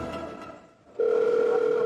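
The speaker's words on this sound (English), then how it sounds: "she's not answering the phone" A phone call rings out unanswered: after a second of muffled background noise, a steady electronic ringback tone sounds loud and close, holding on continuously to the end.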